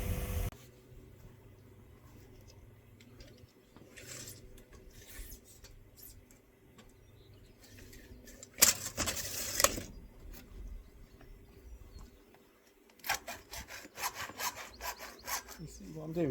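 A plastic koi pond pipe is cut by hand with a saw, giving quiet, uneven rasping strokes over a low background hum, with a louder burst of scraping midway and faster sawing strokes near the end.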